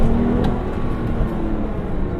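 A Porsche 911 sports car accelerates hard with a loud, steady engine roar and road noise filling the whole stretch, heard from inside or close by with no voices.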